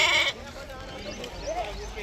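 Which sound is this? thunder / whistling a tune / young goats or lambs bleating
young goats or lambs bleating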